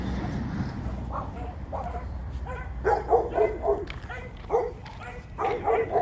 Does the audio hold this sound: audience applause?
no